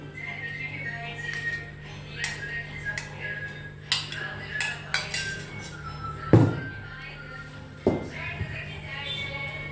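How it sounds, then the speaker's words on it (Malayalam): Dishes and utensils clink and clatter in irregular bursts, with a couple of sharper knocks, while home-cooked meals of pickle, stir-fried vegetables, fried fish and curry are scooped and packed into containers for hospital distribution amid background voices. "തൃശ്ശൂർ മെഡിക്കൽ കോളേജിലേക്കുള്ള ഭക്ഷണമാണ് ഞാൻ പാക്ക് ചെയ്തുകൊണ്ടിരിക്കുന്നത്"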